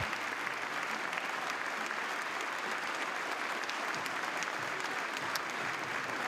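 Steady, dense applause from Oklahoma fans in the stands at Love's Field during a Wichita State vs Oklahoma college softball game, a broad sustained clapping wash at moderate distance with no pauses.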